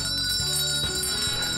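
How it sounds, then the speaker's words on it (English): Christmas bells ring in a bright, sustained jingle over a rhythmic musical backing, with steady loudness across the short stretch and no voices. "Ho-ho, those Christmas bells."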